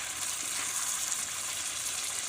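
Water pours into a pan of chicken and potatoes cooking in plenty of oil, a steady, even rushing gush that holds without a break, close up, with no voices.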